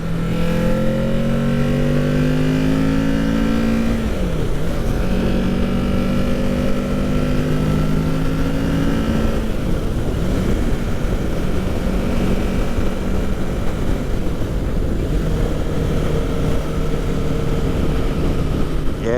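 Engine of a small 2021 Kawasaki 6-speed motorcycle on a demo ride, loud and continuous, revving up and dropping between gears with a pitch shift midway, steady wind-heavy roar throughout.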